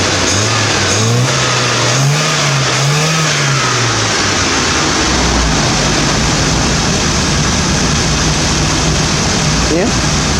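1980 Triumph TR7 engine with a new fuel pump warming up, revving in rising and falling sweeps before settling to a steady idle, loud and close.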